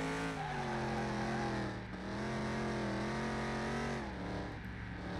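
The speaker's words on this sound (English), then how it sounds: "now accelerating the car using my pedal" Car accelerating in Car Mechanic Simulator 2021 driven with a wheel and pedals, a steady close engine drone with rising and falling harmonic pitch as the revs climb, dip briefly and climb again.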